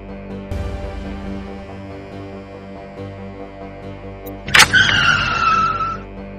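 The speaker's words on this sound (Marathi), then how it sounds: "एक गाडी थांबत नाही" A car that won't stop skids to a halt, a sudden loud squealing screech bursting in near the end over a low droning hum, with no voices.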